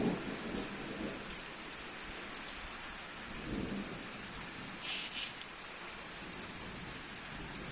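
Low rumbles of far-off thunder roll under a steady wash of falling rain.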